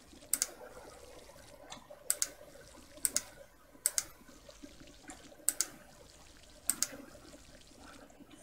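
Corn being watered in the Green Project game: a soft trickle of water runs throughout, broken by about seven pairs of sharp, bright clicks at regular intervals.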